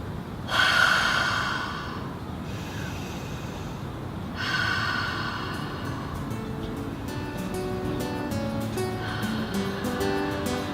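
During a kettlebell yoga cooldown, a woman takes two long, deep, audible inhale-exhale breaths close to the mic, followed by softer breathing and faint background noise.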